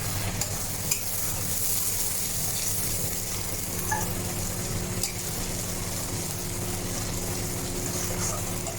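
A spatula steadily stirs chili powder and turmeric masala around a hot pan for Hyderabadi chicken kasha, giving a continuous close scraping and sizzling hiss with a few brief knocks.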